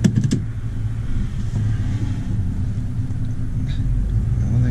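A vintage Ford Custom car drives off, its engine rumbling low and steady from inside the cabin after a brief clunk at the start, with a continuous drone throughout.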